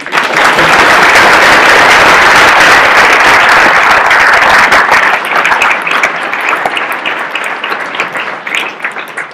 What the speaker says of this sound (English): Can we have a round of applause if you feel it?